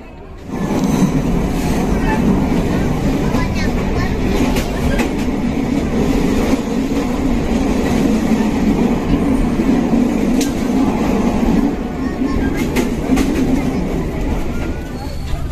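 Siliwangi passenger train running on the Cianjur line, heard from inside a carriage as a steady loud rumble with rail clatter throughout, and voices talking faintly under it.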